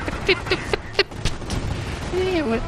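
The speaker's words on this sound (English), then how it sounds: "there are more explosions here than" Explosions and gunfire in the Company of Heroes strategy game: a run of sharp, loud bursts in the first second, then scattered booms, all under excited talk.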